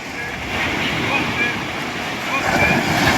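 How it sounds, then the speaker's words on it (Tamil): Ocean waves break and wash onto a beach where traditional shore-seine fishermen work, making a steady, loud surf rush mixed with gusty wind buffeting the microphone. "இந்த சைடு பார்த்தீங்கன்னா தெரியும் அந்த அலை வந்து எப்படி வருது அப்படின்னு பாருங்கள்"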